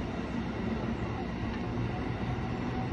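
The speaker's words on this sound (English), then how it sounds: "A train is approaching." A train arrives at New Carrollton station as a steady, dense low rumble of rolling wheels and machinery, loud and continuous with no breaks.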